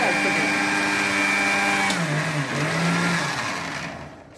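A mixer grinder runs loud and steady, grinding boiled potato into a smooth batter for aloo rava dosa, its motor pitch dipping and winding down toward the end.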